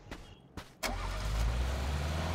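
A car engine in PUBG starts after a couple of clicks, then settles into a loud, steady, low rumble, close and alone.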